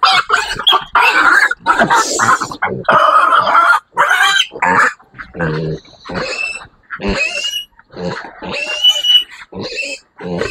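A sow with a yellow ear tag, mother of eleven piglets, grunts and squeals loudly in her pen on a farm, the bursts coming close and choppy, with chickens clucking around her.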